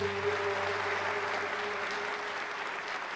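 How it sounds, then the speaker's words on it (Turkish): An audience at a televised singing competition stage show claps in a continuous, even wash of applause with a low musical hum beneath it. "Bir büyük alkış daha gönderelim kendisine."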